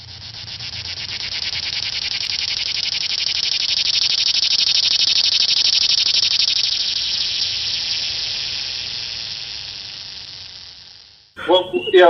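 A loud, dense North American cicada chorus drones as one continuous buzzing hiss, swelling and then easing before cutting off abruptly, with a brief different noise at the end.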